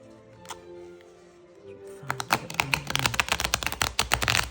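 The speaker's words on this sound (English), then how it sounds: "So let me shuffle them in front of you" Transparent tarot cards shuffled by hand during a card reading: a quiet pause with a faint tap, then a rapid run of crisp, close riffling clicks and flutters that continues to the end.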